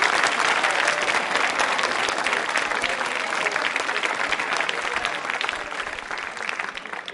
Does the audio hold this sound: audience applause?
yes